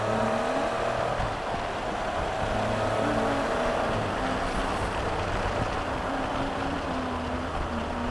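A Can-Am Spyder RT motorcycle accelerates with a continuous loud engine drone and wind rush, its pitch stepping up through gear changes while it cruises along the road.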